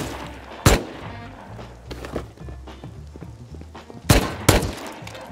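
Gunfire in the Rust video game: a few sharp, loud shots stand out against a busy, noisy game soundscape, with one isolated blast early and a close pair of shots near the end.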